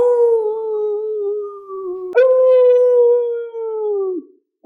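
Hound baying sound effect in a stage play of Hound of the Baskervilles: two long, wavering howls, loud and close, the second starting sharply. A brief cut of sound follows at the end.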